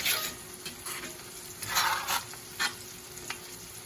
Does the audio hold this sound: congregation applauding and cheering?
no